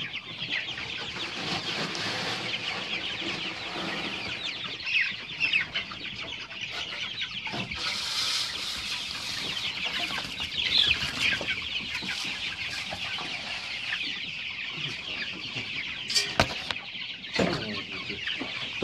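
A steady chorus of cheeping and clucking from a broiler chick raised together with Calimero chicks in a brood pen, continuous and close, with occasional louder chirps and light scuffling throughout.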